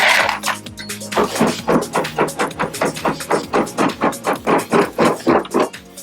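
Hammer repeatedly striking galvanised metal capping to reshape it, a steady run of about twenty sharp ringing blows in even rhythm, close and loud with no talking.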